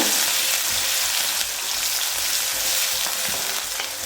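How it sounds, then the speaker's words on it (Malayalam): Onions and small shallots frying in hot oil in a pan for a simple chicken curry, a loud, steady close sizzle with occasional stirring scrapes throughout. "അതിലേക്ക് സവാളയും കൊച്ചുള്ളിയും ഒന്ന് ചേർത്ത് കൊടുക്കാം"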